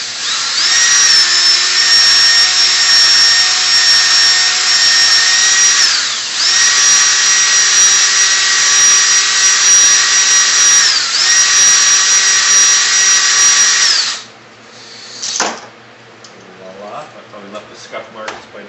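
A power drill drives a hone inside a Polaris Indy 440 fan engine cylinder, a loud steady whine in long runs broken by brief pauses. It stops near the end, followed by faint shop clatter.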